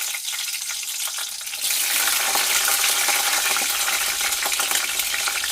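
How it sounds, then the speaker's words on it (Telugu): Green chillies frying in a pan as a side dish for chicken: a loud, steady sizzle that jumps up suddenly about one and a half seconds in and holds, crackling densely with no talk. "ఈ పచ్చిమిర్చిని కొంచెం అలా ఫ్రై చేద్దాం"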